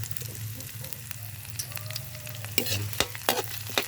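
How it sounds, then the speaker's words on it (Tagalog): Sweet potato leaves sautéing in a pan give a soft, continuous close sizzle, broken by scattered sharp clicks and scrapes of stirring that grow busier toward the end, with a low steady hum underneath. "Magigisa lang tayo ng talbos ng kamote mga badi."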